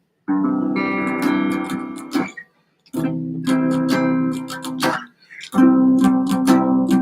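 Strummed guitar chords on the bottom four strings ring out in three separate bursts with short pauses between them, clear and close, with no talking.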